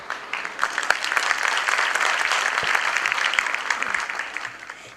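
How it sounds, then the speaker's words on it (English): A school audience at a primary-school Grade III event applauds the performers, a dense, continuous round of clapping from a crowd, fairly loud and steady throughout five seconds. "Can we have a round of applause for our brilliant performers?"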